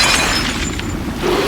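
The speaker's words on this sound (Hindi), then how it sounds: "रॉबिन, तूने फिर से मेरा कांच का ग्लासेस तोड़ दिया।" Glass spectacles shattering as a cartoon sound effect: a loud, bright crash and tinkle of breaking glass filling the moment, with debris scattering over a steady low rumble.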